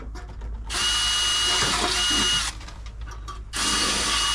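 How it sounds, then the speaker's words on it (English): A power drill with an angle attachment whines in two loud bursts, the bit grinding into a hard wall surface while mounting Toyota Tacoma headlights, with a short pause of lower rattling between them. "now I'm gonna take the drill with the angle, and I'm gonna drill it into the wall"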